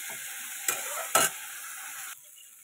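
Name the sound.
vegetables frying in a pan with salt and turmeric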